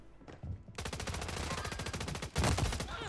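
Automatic gunfire in the shooter game Call of Duty on Rebirth Island, rapid loud bursts of shots in close succession, a brief pause, then a heavier burst with impacts, no speech.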